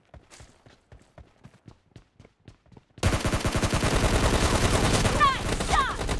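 Gunfire in the mobile battle game PUBG Mobile Lite during a team deathmatch: a rapid string of separate shots for three seconds, then a sudden loud, dense burst of continuous automatic fire with game sounds layered over it.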